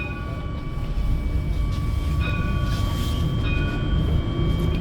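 Besançon tramway car running along its rails toward Chalezeule, a steady close rumble with faint high whine tones and no talk.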